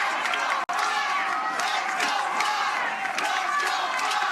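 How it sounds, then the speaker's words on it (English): Spectators roar and cheer steadily at a professional pickleball match between the New Jersey 5s and DC Pickleball in New Jersey, a dense, loud crowd sound that holds throughout with a brief dropout. "Crowd comes alive."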